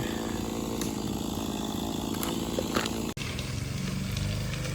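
A small Stihl MS 170 chainsaw cutting a hardwood tree runs continuously at high revs, its buzzing whine steady throughout with a brief cut-out near the end before resuming.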